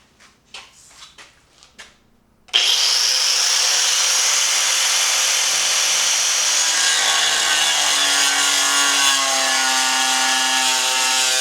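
A few short knocks, then a loud power saw cuts steadily through wood for several seconds, its whine wavering as the blade works.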